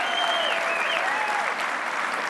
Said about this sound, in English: Can we give a round of applause to those great women